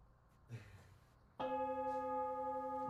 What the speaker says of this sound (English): We're playing with the gong there